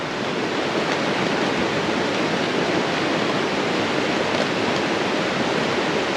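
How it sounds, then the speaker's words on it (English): A swollen stream churns as a torrent of white water during heavy rain beside a car-tent campsite, making a continuous, loud, close rushing roar with no voices. "Oh, listen to the stream. It's just so loud."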